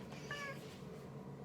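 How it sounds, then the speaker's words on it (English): A single short cat meow, faint and close, over a low steady background hum. "Say hi, kitty."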